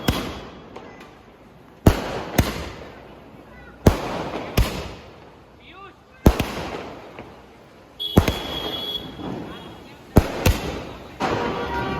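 Diwali firecrackers going off outdoors, a series of loud sharp bangs at irregular intervals with crackling between them, people talking and calling out in the background.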